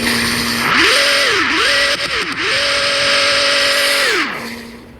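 The Apollo IE car in a video game revs alone and loud, its engine tone climbing and dropping through several quick gear-shift dips before settling into a sustained high whine that falls away at the end.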